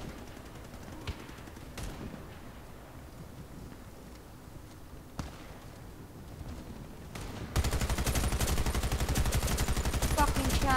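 Video game gunfire from sniper and other weapons: scattered single sharp cracks over a low background rumble, followed by a dense, louder burst of rapid fire near the end.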